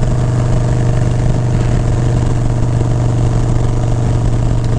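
An old Harley-Davidson motorcycle engine idles steadily and loudly close by, its low, even rumble continuing unbroken with no talk over it.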